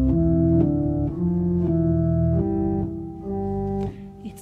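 Organ played legato in a simple children's pedal piece, a sequence of smooth connected sustained notes with a deep low register and steady volume, close and without talk.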